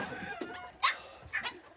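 Young chickens cluck softly in a new coop on a mountain-village farm, a couple of short, moderately close calls with quiet shuffling between.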